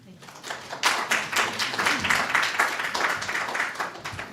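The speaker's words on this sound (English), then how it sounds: "I think we should keep clapping till he goes back to his seat" Audience applause at an art exhibition and book launch, a sustained round of dense clapping that swells after a quieter start and stays loud and even, with some voices mixed in.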